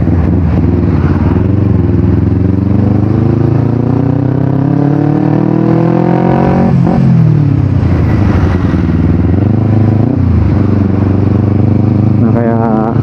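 A Kawasaki Ninja 250 FI motorcycle engine pulls steadily uphill, loud and close, its pitch rising and falling as it revs through gears, with heavy wind buffeting throughout.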